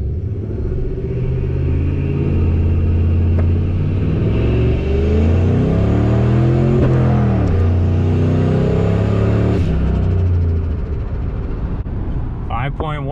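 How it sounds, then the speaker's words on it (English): Old stock Ford F150 pickup with a single turbo in four-wheel drive, launching hard from a boosted start on the stock stall, its engine droning loud and close as it climbs through the gears with rising pitch sweeps. "Four-wheel drive, boosted launch as much as I can with the stock stall."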